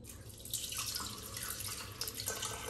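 Water poured for a banana chocolate blender recipe, a close, steady stream splashing into a container with small drips, continuous and moderately loud with no voice.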